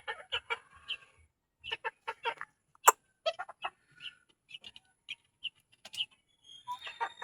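Chickens cluck in scattered, soft bursts while being fed on a rainy afternoon, with a few louder calls standing out against otherwise quiet surroundings.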